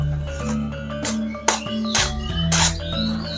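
A sharp knife with a 9 cm blade, 3 cm wide and 4 mm thick, slices through paper in about four quick hissing strokes, heard under steady background music.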